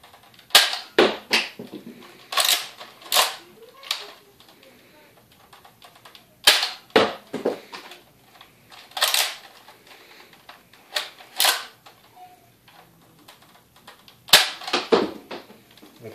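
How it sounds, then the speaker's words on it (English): An older Nerf Zombie Strike blaster firing foam darts: a string of sharp, close snapping shots at irregular intervals, some in quick pairs, with brief mechanical rattles between them and no speech. "pretty much it for the firing test"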